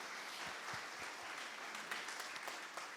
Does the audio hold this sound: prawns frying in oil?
no